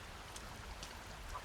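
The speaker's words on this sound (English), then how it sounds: "Barely see with the rain." Rain falls in the survival video game Sons of the Forest, a faint, steady hiss of patter with no voices over it.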